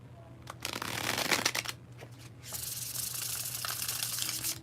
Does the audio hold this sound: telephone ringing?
no